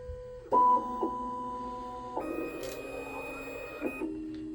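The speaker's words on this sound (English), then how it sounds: "it'll use each one of the burrs and just tap the block and then go over top of them and under them to make sure the block is correctly positioned" A Cerec Primemill dental milling machine whirs as its burrs tap and probe the block, producing a steady tonal whine that steps between several pitches. A brief louder burst comes near the start, with faint clicks over the close, moderate mechanical hum.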